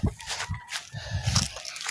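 Chickens on a Philippine farm cluck and squawk in short, uneven bursts at close range, with a few busy calls overlapping in quick succession.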